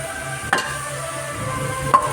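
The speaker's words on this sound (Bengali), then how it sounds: "তো বেগুনটা দিয়ে আরও কিছু সময় নেড়ে নেব" Eggplant stirred into spinach in a sizzling pan, a steady close frying hiss broken by two distinct scraping stirs of the spoon, with no voices.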